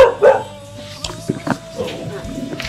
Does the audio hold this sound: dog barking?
yes